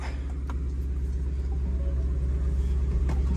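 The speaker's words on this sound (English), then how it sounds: "All right, let's start my car up." A car at an outdoor Sunday car meet runs with a deep, steady engine rumble close by, a low pulsing idle that holds evenly with no other sounds over it.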